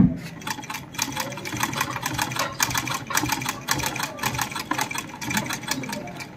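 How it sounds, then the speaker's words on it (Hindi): Sewing machine stitching again on the same piece of cloth while checking a fault of lumpy, knotted stitches, a fast rhythmic mechanical clatter with short pauses between bursts, close and fairly loud. "अब हम इसी कपड़े पर दोबारा इसको सिलाई लगा करके देखते हैं।"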